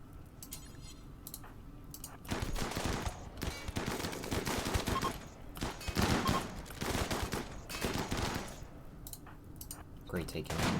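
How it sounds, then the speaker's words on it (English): Gunfire in the colony-building video game Rimworld, repeated bursts of shots and impacts from attackers standing outside, running nearly continuously at moderate loudness with speech mixed in. "I wasn't expecting them to just stand outside and start shooting him."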